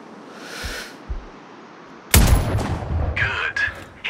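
Sniper rifle fire in the video game Sniper Ghost Warrior Contracts: two faint thumps, then one sharp, loud shot with a booming tail, followed by smaller clanks and rattles.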